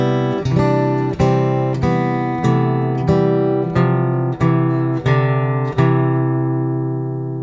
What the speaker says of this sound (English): we could play the scale on top of the chord